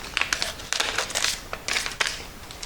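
A wide plastic sheet crinkles in quick, irregular bursts while being handled and cut to size for a 1999 Yamaha R1 fork seal job. The sound is close and fairly loud, with no talking.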